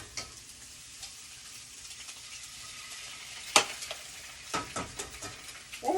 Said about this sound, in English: Ooh, just a little sizzle.